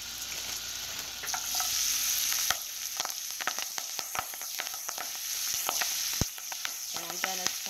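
Collard greens sauté in melted butter in a pan, giving a close, steady hiss broken by frequent sharp pops and crackles, with a few stirring scrapes toward the end.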